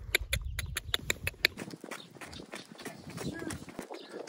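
Donkey hooves clip-clop along a path in Petra, Jordan, a quick run of sharp, evenly spaced knocks early on, then quieter irregular steps under background noise and a talking voice.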